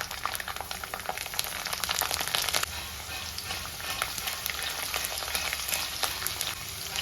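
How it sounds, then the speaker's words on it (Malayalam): Garlic cloves fry in hot oil with fenugreek and mustard seeds for a Kerala-style pickle, giving a steady, dense crackling sizzle with no talking. "ഉലുവ നന്നായിട്ട് പൊട്ടിക്കഴിഞ്ഞാൽ 2 ഉണ്ട വെളുത്തുള്ളി എടുത്ത് അത് ചേർത്ത് കൊടുക്കാം"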